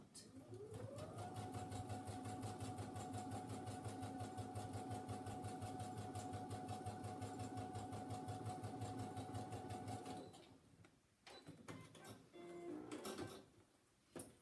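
A sewing machine stitches a quarter-inch seam for a Christmas wreath quilting project, running in one steady, continuous burst of rapid needle strokes for about ten seconds before stopping, followed by brief handling noises.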